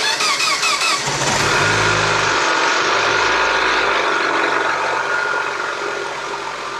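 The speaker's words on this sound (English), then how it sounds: "update is engine's starting. It's running decent." A 2007 Mini Cooper S engine cranks and catches, then settles into a loud, close, steady running idle with a rough edge, the starter whine giving way to a continuous engine drone.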